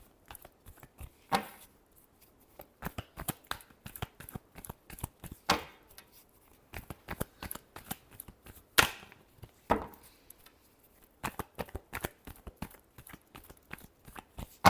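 Tarot cards are shuffled by hand in short crisp riffles and slaps, a series of sharp close clicks and flutters with brief pauses between bursts and no voices.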